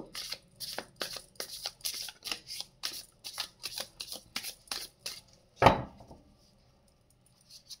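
Tarot cards are shuffled by hand in about a dozen quick, crisp riffling bursts at close range, followed by a single sharp tap and then near silence.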